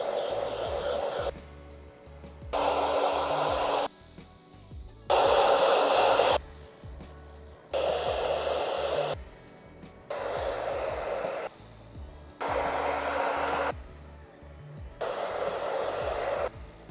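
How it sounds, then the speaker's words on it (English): A hairdryer on its cold setting, used to dry layers of makeup, roars in repeated bursts of about one to two seconds, switching on and off in a regular pattern with quiet gaps in between. "Now just going to come in with a hairdryer just to help dry each layer."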